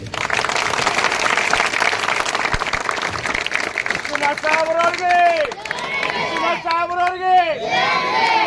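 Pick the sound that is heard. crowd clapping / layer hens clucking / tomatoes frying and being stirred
crowd clapping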